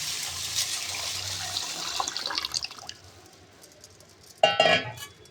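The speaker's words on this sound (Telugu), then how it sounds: "ఇప్పుడు దీన్ని మనము వాటర్ పోసి నానబెట్టుకోవాలి." Water is poured over rice and fenugreek in a container to soak them. A splashing pour fades, then a few faint clinks follow, and a short, louder burst of water and clatter comes near the end.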